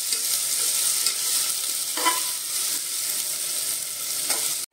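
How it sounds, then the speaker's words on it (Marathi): Chopped onion frying and being stirred in a pan until reddish for a home-style mutton paya soup, giving a steady bright sizzle with a couple of short utensil scrapes against the pan. "कांदा आपण हा लाल होईपर्यंत चांगला भाजून घेऊया"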